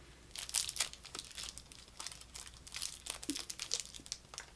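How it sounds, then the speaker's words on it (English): Plastic packaging is crinkled and torn away from a makeup brush set, giving soft, close crackling bursts in several short clusters with quiet pauses between them. "Let me go ahead and take the packaging out."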